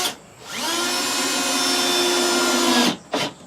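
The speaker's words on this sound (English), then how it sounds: "hopefully this drill bit has similar or better performance characteristics than" A power drill whirs loudly at steady speed for a couple of seconds while drilling wood, then winds down, followed by a brief second burst.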